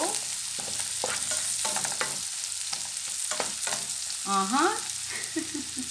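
Chili and whole garlic fry in a pan for spicy garlic prawns, giving a steady close sizzle broken by repeated stirring scrapes and clinks, with no talking.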